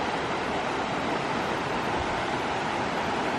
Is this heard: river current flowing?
yes